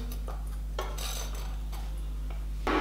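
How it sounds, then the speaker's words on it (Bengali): A metal steaming stand is set down inside a wok to steam hilsa fish, giving a few close metallic clanks and scrapes spread over a few seconds, with no talking. "আমি একটা কড়াইয়ের মধ্যে প্রথমে একটা স্ট্যান্ড রেখে দেব"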